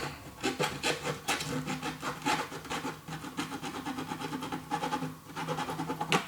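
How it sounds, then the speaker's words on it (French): A blade cuts through a heated, softened 3D-printed plastic part, giving a continuous rough rubbing and rasping scrape that pulses in uneven strokes, close and fairly steady with no talk. "Ça se coupe beaucoup plus facilement que quand c'est solide. Comme si on découpait du caoutchouc un peu dur."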